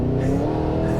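A supercharged 2023 Cadillac Escalade V accelerating, its exhaust a steady, loud low drone with a sustained rising engine tone and no talk over it.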